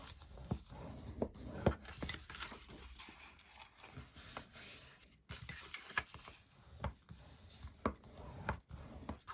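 Paper for a craft card being folded and burnished, with soft close rubbing and scraping strokes and small crisp creases coming in irregular bursts, quiet and without talk.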